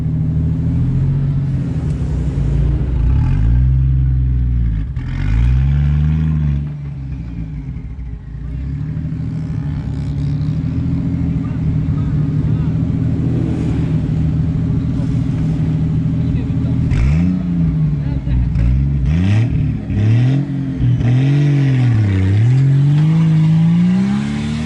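An off-road car's engine revs hard and repeatedly at night after rain, loud and close, with rising and falling pitch sweeps, while people talk and shout over it throughout.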